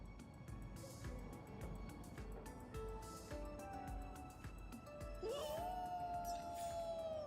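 A dog in a video game barks faintly several times in the distance, then a drawn-out, howl-like tone rises and holds near the end, all quiet and without talking.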